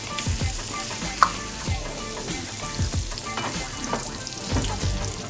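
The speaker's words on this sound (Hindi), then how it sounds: "इसको हम हल्का हल्का फ्राई करेंगे ऐसे ही इसमें।" Ginger garlic paste sizzles and crackles steadily in hot oil for Lahori chole, with occasional scraping of a spoon stirring the pan, close up and continuous.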